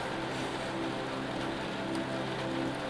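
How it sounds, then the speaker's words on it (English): Rain pours outside in a steady, dense hiss of drops striking surfaces, even and continuous throughout with no voices. "you can hear how much it's raining outside again"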